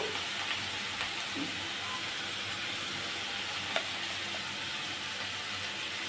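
Onion stalks fry in a pan with salt and turmeric, giving a dense, even sizzle that hisses without a break, near and steady, with one faint tap and no talking.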